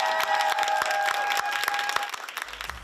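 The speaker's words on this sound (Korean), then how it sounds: "K-팝을 상징하는 칼 군무가 나올 때마다 현장은 함성으로 가득 찼습니다" A crowd at a K-pop audition in Manhattan, New York claps and cheers steadily over music with sustained tones, the noise dropping into a low rumble at the very end.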